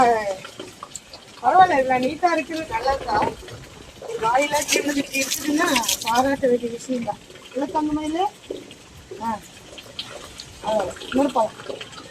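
Tap water splashes over a dog's feet as they are washed at home, a soft running wash that sits beneath nearly continuous talking voices.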